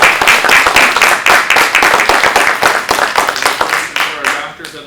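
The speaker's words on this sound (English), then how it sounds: "Let's give a round of applause." Audience applause at a community gathering on the state of education, close and loud, with distinct individual claps in a quick uneven rhythm that thins out toward the end.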